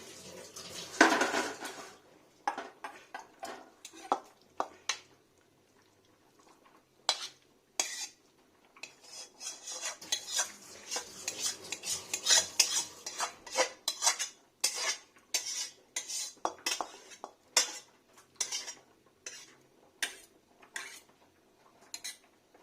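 Cooked bottle gourd with poppy-seed paste being scraped out of a pan into a bowl, a long run of sharp, close metallic clinks and scrapes of a spoon against cookware in uneven bursts, with short quiet gaps and no talk.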